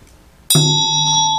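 A ritual bell from Chöd practice rings once, struck sharply and close, then rings on with a clear sustained tone.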